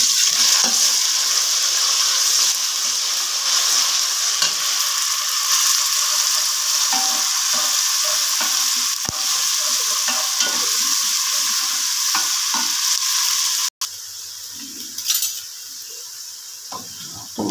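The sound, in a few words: garlic and ginger frying with browned onions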